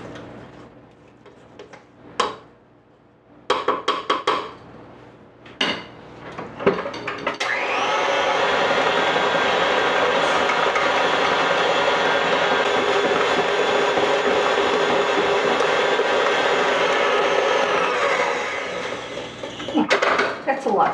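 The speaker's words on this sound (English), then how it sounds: "I just want to get in there and scrape down the sides so I make sure that everything's getting blended in there." An electric mixer whirs steadily for about twelve seconds while peanut butter mousse is blended and the bowl sides are scraped down, preceded by scattered clinks and kitchen handling noises.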